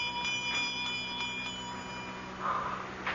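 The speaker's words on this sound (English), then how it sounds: "I'm trying to see where that bell came from." A small bell rings as a radio drama sound effect, giving light, faint chimes that repeat at intervals with a soft ringing tone near the end.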